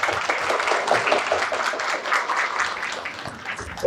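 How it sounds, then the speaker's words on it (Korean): A seated audience of mothers at an education talk gives sustained applause, a dense wash of many hands clapping that stays fairly loud and even for several seconds. "다시 한번 감사의 박수를 어머님들께서 대신 한번 보내주시기"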